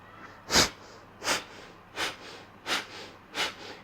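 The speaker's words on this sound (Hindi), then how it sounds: "सिर्फ श्वास को आप बाहर छोड़ेंगे झटके के साथ में।" Five sharp, forceful nasal exhalations at a steady pace, each a short puff of air with quiet pauses between, like a rhythmic breathing exercise.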